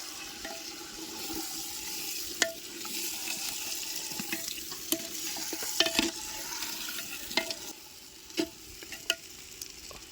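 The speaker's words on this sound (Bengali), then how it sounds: "এবার খুন্তি দিয়ে আস্তে করে নাড়ায় একটু মিশাই দেবো" A spatula stirs and scrapes poultry meat inside a clay pot, giving irregular soft scrapes and occasional sharper knocks over a steady wet, hissing background; no one speaks.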